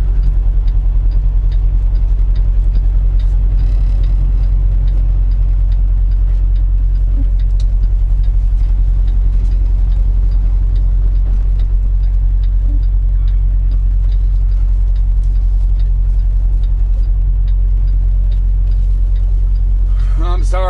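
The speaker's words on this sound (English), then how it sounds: "I know I'm still moving my truck." A semi truck rumbles slowly across a parking lot, its engine a low steady drone close by with faint ticking, continuous and loud throughout.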